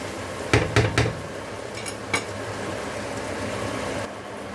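Keema roasts in a pan as a spoon scrapes and clanks against the metal, with a quick cluster of three knocks, a few later taps, and a low, steady sizzle throughout.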